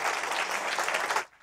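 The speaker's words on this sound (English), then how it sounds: "Let's give him a round of applause." Audience applause at a political event with a former finance minister, steady dense clapping from a crowd that cuts off abruptly near the end.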